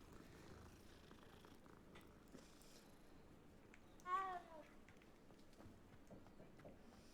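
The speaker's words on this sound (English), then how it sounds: "Gotta stop to pet the kitty." A cat purrs while being petted in the video game Hogwarts Legacy, a faint low rumble in a quiet scene, with a brief louder chirping call standing out about midway.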